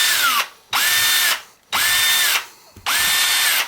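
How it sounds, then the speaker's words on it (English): A power drill whines loudly in three separate bursts, each about a second long, with short silent gaps between them, very close up. "Just drill in."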